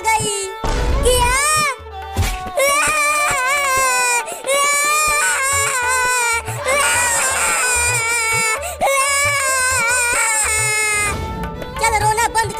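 A child cries loudly in a comedy sketch, with long wavering wails broken by sobbing gasps and short pauses, continuing almost without letup and ending in ragged breaths.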